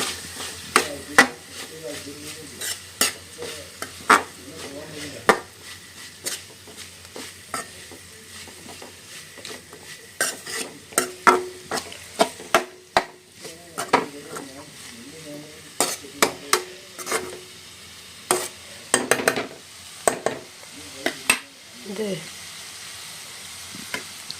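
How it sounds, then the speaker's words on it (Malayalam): Papaya thoran with coconut, crushed garlic and onion being stirred in a pan: repeated scraping and clattering strokes over a soft sizzle, close and fairly loud, in irregular bursts. "നന്നായിട്ട് ഇളക്കി കൊടുക്കാം"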